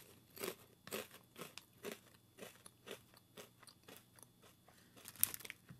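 Someone crunches roast beef and mustard flavour Brannigans crisps, a close series of sharp, crackly bites and chews in an irregular rhythm, with no talk.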